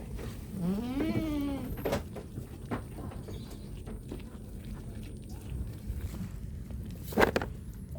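Two adult goats and a kid bleat in a rural farm setting, one drawn-out wavering bleat near the start and a shorter cry later, over rustling and faint footsteps, with no talking.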